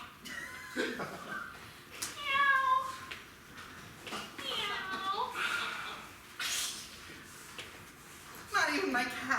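A cat meows, or a performer imitates one, during a live improv comedy show. Several drawn-out, wavering meows come at intervals between short bursts of talk and room noise, moderately loud and close.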